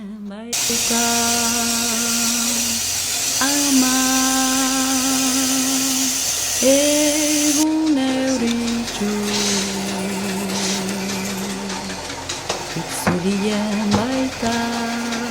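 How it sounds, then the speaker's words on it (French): A toothless circular saw cutting espadrille soles along a chalk line, a loud, sustained high whine whose pitch dips and recovers as it bites into the material, with a hissing edge and no voices. "c'est une scie circulaire sans dents et je vais suivre maintenant le tracé que j'ai fait avec la craie de tailleur"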